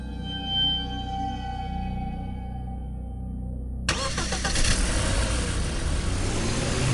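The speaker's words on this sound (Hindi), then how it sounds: "सैम ने अपनी कार चलाई और जंगल के उस अंधेरे रास्ते से दूर निकल गया" A car on a dark forest road sits under a low, droning hum until its engine abruptly catches midway, then runs on in a rough, rumbling rev as it pulls away, fairly close and with no voices.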